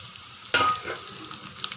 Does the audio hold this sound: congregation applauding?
no